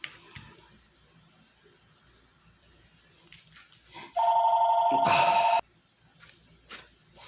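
A loud, steady electronic phone ring from an incoming call cuts in for about a second and a half, then stops abruptly, in an otherwise quiet room.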